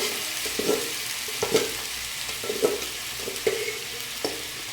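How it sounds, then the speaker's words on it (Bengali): Ginger and mustard seeds temper in hot oil in a home kitchen, cooking for a dish of greens; a continuous sizzle runs throughout, punctuated by regular scraping stirs roughly once a second. "আদা আর সরিষা ফোড়ন দিয়ে"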